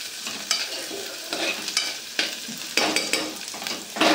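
Monitor lizard curry sizzles in a pan while a spoon stirs it, producing repeated scraping strokes every second or so over a steady frying hiss, close up with no voices.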